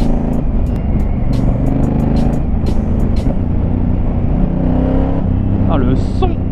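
A 2019 Honda Africa Twin motorcycle is ridden in fourth gear with a loud, steady engine drone and wind rush throughout, close and continuous, with a few brief higher tonal blips near the end.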